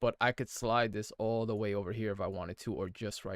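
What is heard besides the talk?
No everyday noises stand out.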